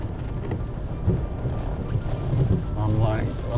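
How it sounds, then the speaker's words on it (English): Ferocious storm wind buffeting the microphone in a valley in Ireland, a constant loud rumbling roar with gusts swelling toward the end and a voice faintly present beneath it. "the wind is ferocious"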